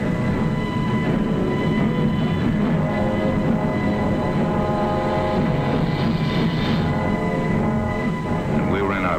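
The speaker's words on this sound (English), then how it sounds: "Then we heard the roar of engines as the Pathfinder ships began hopping off." A loud, steady roar of D-Day pathfinder aircraft engines at takeoff drones on without pause, a deep mechanical rumble with a humming whine, with a voice speaking over it.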